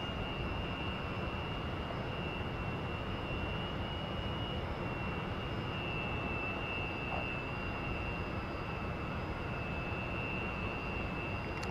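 A Su-27 jet roars in the DCS flight simulator with a constant, loud broadband engine rush and a thin steady whine above it, unbroken throughout with no voices.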